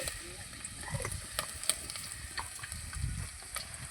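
Mustard seeds and garlic fry in oil over a wood-fired stove for egg curry, giving a steady sizzle with scattered crackles and pops.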